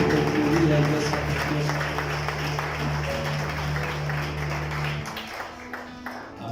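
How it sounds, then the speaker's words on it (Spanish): A church congregation claps, a dense wash of applause over sustained music that thins out and fades near the end, with a voice heard over it. "con ese aplauso fuerte a Él"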